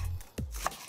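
A kitchen knife slicing shallots into wedges on a cutting board, a few separate close, dry chops spaced irregularly in a quiet kitchen.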